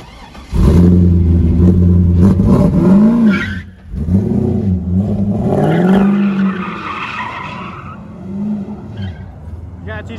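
A cheap Chevrolet Corvette engine revs hard as the car pulls away, loud and close, with rising and falling engine tones and some tire noise; voices are heard briefly around it.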